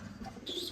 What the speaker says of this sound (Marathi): कसे वाटतात दोन्ही कबूतर?